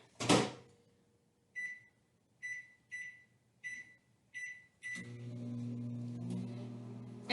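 A microwave oven reheating solid butter gives five short, evenly spaced beeps after a loud door clunk, then its steady low hum starts up and continues alone at moderate volume.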